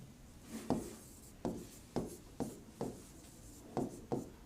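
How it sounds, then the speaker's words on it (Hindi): Pen strokes scratching across a paper sheet, seven or so short separate scrapes in an uneven rhythm, close and fairly quiet, with no voices. "तो चलिए इसके बारे में भी लिखते हैं।"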